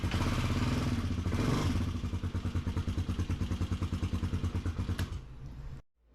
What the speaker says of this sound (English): Turn the switch off here so you can just, it'll just crank and crank and crank.